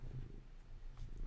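A cat purrs on a desk, a soft, close, rhythmic low rumble that continues steadily on its own.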